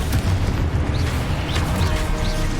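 The Confringo explosive spell in the Hogwarts Legacy game blasts out as a deep, rumbling boom, with a sustained low roar and small crackling bursts layered over it.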